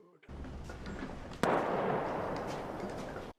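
A gunshot from an episode of The Last of Us TV series, one sudden sharp crack that rises out of a steady, fairly loud background of noise and lingers as a rumbling decay, with no clear talk over it.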